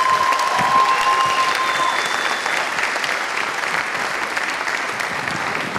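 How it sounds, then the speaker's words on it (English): An audience gives a round of applause at a school gathering, a dense, steady wash of many hands clapping that fades slightly toward the end. "round of applause for that."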